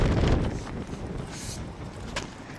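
Strong wind gusts buffet the microphone outdoors at an abandoned construction site, a steady loud rushing roar with low rumble throughout, no speech over it.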